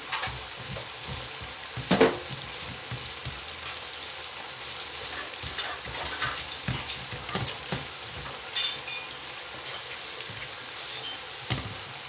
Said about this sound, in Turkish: Kaşığımın tersiyle bastırarak kıymalarımı hem biraz daha eziyorum hem iyice soğanları, biberleri karıştırıyorum.